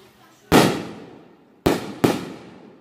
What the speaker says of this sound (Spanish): Esas bombas que escuchan son cohetes que vientan al aire.